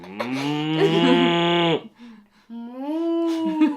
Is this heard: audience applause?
no